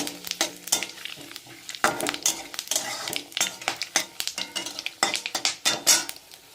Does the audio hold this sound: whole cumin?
yes